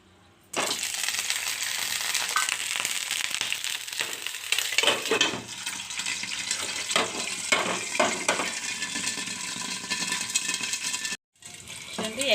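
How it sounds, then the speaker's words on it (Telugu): Eggs frying in a pan with curry leaves and green chillies for an egg curry, a steady crackling sizzle that starts abruptly and runs throughout, with brief stirring scrapes and a short drop near the end. "ఇప్పుడు ఎగ్ని వేపుకుందాం"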